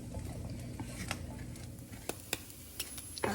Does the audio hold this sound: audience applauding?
no